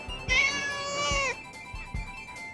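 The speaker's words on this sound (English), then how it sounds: "Here, kitty, kitty." A cat in a cartoon gives a single drawn-out meow, close and clear, followed by soft thumps and light background sounds.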